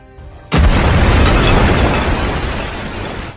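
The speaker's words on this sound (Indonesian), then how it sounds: "Momen ini adalah pertama kalinya Luffy mendapatkan serangan meriam di tengah laut" Cannon fire at sea hits as a sudden, loud, broad boom after a moment of quiet, followed by a dense roaring rumble that slowly fades over a few seconds.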